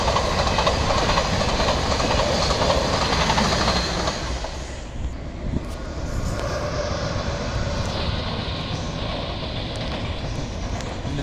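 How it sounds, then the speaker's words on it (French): A TGV Lyria high-speed train on the France–Switzerland route passes at Créteil, a loud, broad rushing roar that eases after a few seconds into a steadier rumble with faint rail clatter. "Le TGV Lyria, France-Suisse."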